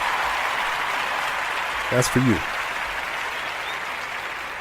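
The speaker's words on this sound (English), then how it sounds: "I'd like to give you, that's right, a round of applause." Steady, even clapping runs through the whole stretch, presented as a round of applause for the fan base on a New Orleans Pelicans postgame show; a voice speaks briefly over it near the middle.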